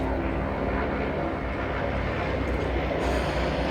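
A loud, steady mechanical roar of a helicopter overhead, filling the whole clip without letting up.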